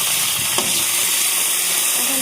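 Green chillies stir-fry in hot oil for a samosa filling, a loud continuous sizzle with a faint scrape of stirring, no one talking.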